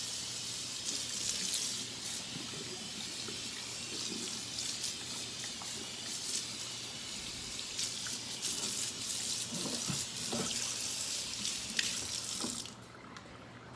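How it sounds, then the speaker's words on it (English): Tap water runs steadily into a sink, rinsing Comet cleanser off micro scrubber gloves with a continuous close splashing rush that stops abruptly near the end. "I'm just gonna rinse off all of this Comet."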